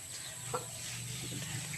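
A male backyard chicken gives a few soft, brief clucks, faint against a steady low background hum.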